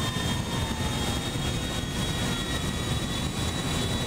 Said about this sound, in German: Die Maschine hebt ab.